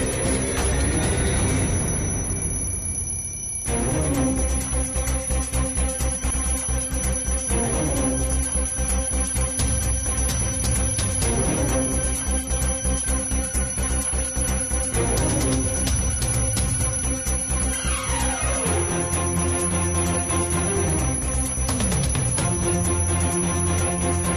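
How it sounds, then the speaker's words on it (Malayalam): An alarm bell rings loudly and continuously in a domestic setting, its shrill metallic tone repeating in rapid, even bursts with no voices over it. "ആരാ ഈ അലാറം അടിക്കുന്നത്?"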